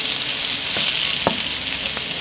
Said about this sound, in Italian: Se sentite friggere è l'olio caldo